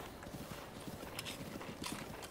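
Horse hooves clip-clop steadily in Zelda: Breath of the Wild, an even galloping rhythm of soft thuds with brighter clattery accents, moderately quiet and with no voices over it.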